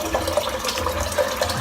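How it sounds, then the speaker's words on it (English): Water splashing and trickling at a sink while the face is wetted before a wet shave, a steady close wash of running and splashing water throughout. "let's wet the face"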